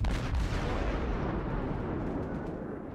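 A naval gun fires in a warship video game, a deep heavy boom that rolls on as a long, loud rumbling blast lasting a few seconds.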